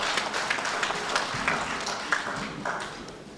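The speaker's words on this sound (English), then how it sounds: "please a round of applause again for him" Audience applause at a live-streamed lecture closing, dense steady clapping from a crowd that holds the whole time at an even level, with scattered sharper claps standing out.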